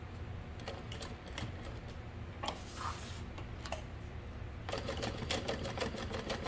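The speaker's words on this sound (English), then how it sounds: "I'm going to backstitch just a couple of times right there to reinforce." A sewing machine stitching a tote bag seam, running in short bursts of rapid mechanical ticking as it backstitches back and forth, close and fairly quiet with no talk.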